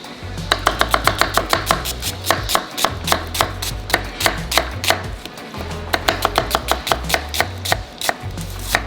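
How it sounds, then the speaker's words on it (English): Onions chopped with a knife on a board in a rapid, even rhythm of sharp close taps, pausing briefly in the middle before resuming at the same brisk pace. "we're going to continue to cut the onions"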